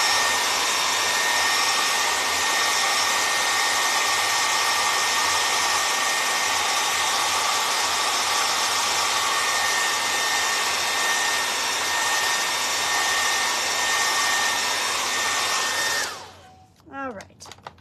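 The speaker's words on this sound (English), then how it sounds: "you most likely are going to have to hit it with a blow dryer or just let it dry" A blow dryer runs steadily at close range for about sixteen seconds, drying acrylic paint on a canvas, with a constant whooshing roar that then cuts off and winds down abruptly.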